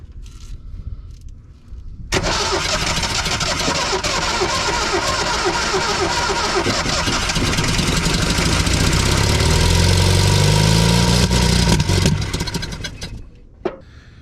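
After a quiet moment, the engine of a vintage Datsun 521 pickup cranks and catches, then runs loud and steady, rising into a rev before cutting off.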